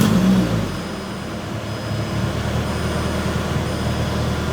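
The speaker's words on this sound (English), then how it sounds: "Let me start it up for you real quick so you can hear." A Mazda Miata with an aftermarket exhaust fires up with a brief surge, then settles into a steady, fairly loud droning idle close by, with no talking.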